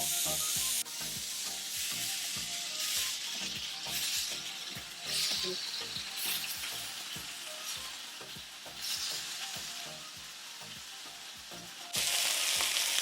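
Asian chicken skewers sizzle on a home grill with a constant, close hiss, overlaid by soft repeated knocks and a louder surge near the end.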